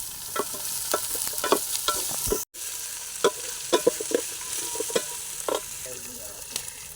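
Onions sautéing with rock salt in a pan sizzle steadily up close, punctuated by sharp clicks and scrapes of a spoon stirring at an irregular pace.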